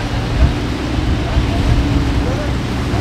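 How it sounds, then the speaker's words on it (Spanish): Motorboat crossing ocean waves, a continuous low rumble of engine and water wash with wind buffeting the microphone, while people talk over it. "Mira cómo cruzan a la lancha de las olas."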